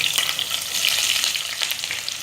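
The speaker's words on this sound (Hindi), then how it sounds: "और प्याज को हमें चलाते हुए अच्छे से गोल्डन फ्राई होने तक के इसे अच्छे से फ्राई कर लेंगे।" Onions and green chillies frying in a pan, with a dense continuous sizzle and crackle and occasional scrapes of stirring, close and loud, with no voices.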